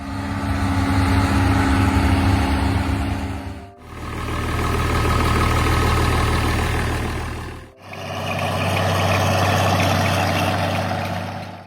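An International Harvester 856 tractor engine idles in three steady runs with brief dips between them, a low, even mechanical drone close by with no voices.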